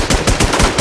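Rapid automatic gunfire from a first-person shooter game, about five loud, evenly spaced shots in under a second, close and alone with no talk.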